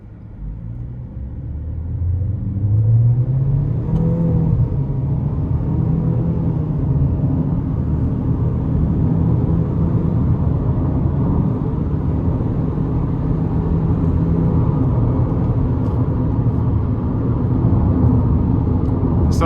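A 2026 GMC Terrain Elevation front-wheel-drive SUV accelerates hard, engine and road rumble building from a quieter start into a loud, sustained drone heard from inside the cabin, with no talk.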